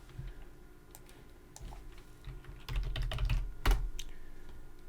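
Typing on a computer keyboard while entering a name into a C# program, with irregular clusters of key clicks that grow louder and denser toward the middle, then a sharp keystroke near the end.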